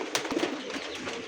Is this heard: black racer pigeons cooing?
yes